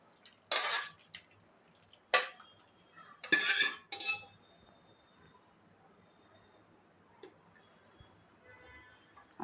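Cooked tomato mixture for homemade tomato sauce scraped from a pan into a wide plate, a few loud metallic clanks and scrapes close by, then quiet with a faint light clink.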